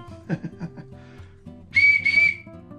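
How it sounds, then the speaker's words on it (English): A shrill whistle is blown in two quick blasts over a quiet background with faint rustling and low noise. "multicolored whistle."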